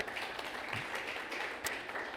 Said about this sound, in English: So I want a round of applause to Scott for that.